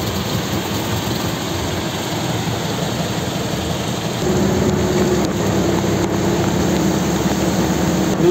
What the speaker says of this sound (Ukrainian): Дощ просто всім дощам дощ.